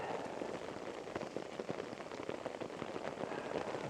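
Steady rain patters on a tarp over a woodland camp, a soft, even hiss of drops with faint irregular taps, no voices.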